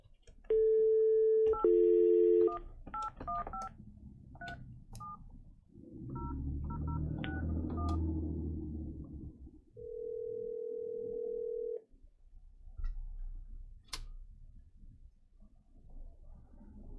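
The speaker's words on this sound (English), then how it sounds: "I've got some phone numbers here and some people to dial" Telephone being dialed from a county board meeting to take call-in public comments: a steady dial tone, quick bursts of keypad tones, a low rumbling stretch, then another sustained tone and a few faint clicks.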